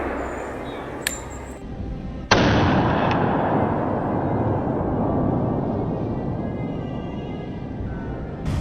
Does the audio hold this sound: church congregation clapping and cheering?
no